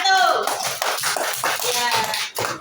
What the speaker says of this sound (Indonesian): beri dulu tepuk tangan buat kelompok 1